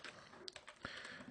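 A few faint, quick keystrokes on a computer keyboard while a web address is entered into a whois search, soft light taps close by with no speech.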